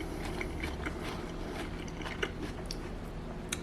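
Close, crunchy chewing of coleslaw with parsley and onions, small crisp bites and wet mouth sounds repeating over a steady low background hum.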